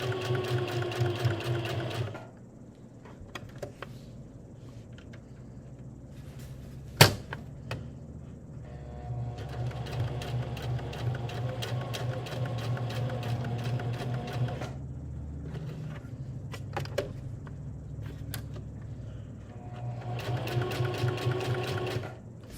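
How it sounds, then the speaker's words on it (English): Sewing machine threaded with orange thread stitching around a felt superhero mask piece, running in bursts with short pauses for pivoting, close and steady with a fast mechanical chatter. "I've threaded my machine with orange thread. I'm going to pivot a few times around."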